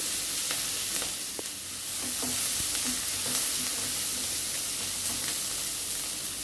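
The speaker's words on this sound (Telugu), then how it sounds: "ఉల్లిపాయలతో పాటు పచ్చిమిరపకాయలు కూడా వేసుకొని దూరగా వేగనివ్వాలి" Sliced onions and green chilies fry in oil in a pan for a puri curry, making a continuous sizzling hiss at a steady level with occasional light stirring taps and no talking.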